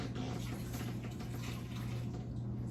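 Water pours off rehydrated eggs in a kitchen, a faint, continuous splashing trickle lasting a few seconds over a low steady hum.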